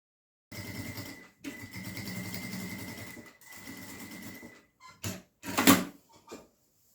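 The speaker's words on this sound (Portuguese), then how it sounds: "vou fazer uma costurinha de pesponto nessa borda" A sewing machine topstitches along the edge of a handmade bag, running in three steady stitching bursts separated by brief pauses, followed by a few clunks and handling noises near the end.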